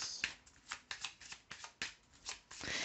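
Oracle cards being shuffled by hand, close and fairly soft, in a series of quick riffling bursts and papery slaps with short pauses between them, no voices.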